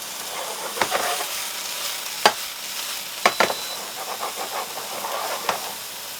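Pork and chicken gyros meat searing in a smoking hot pan gives a steady close sizzle and hiss, broken by a few sharp clatters as the meat is stirred and turned.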